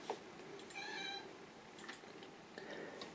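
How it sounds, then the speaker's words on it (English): A cat meows once, a drawn-out, wavering cry heard fairly close, with faint clicks and quiet room noise around it. "If you heard that, that's my cat."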